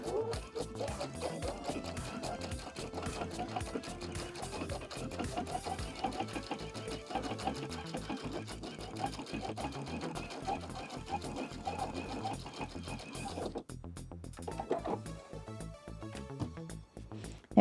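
A sewing machine runs steadily, sewing a row of basting stitches on a fall zipper jacket. The motor hums continuously with a rapid needle rhythm, close and fairly loud, and a brief pause comes near the end.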